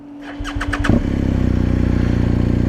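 A BMW motorcycle cranks with a rapid starter whir, then the engine catches and settles into a loud, steady, throbbing idle close by.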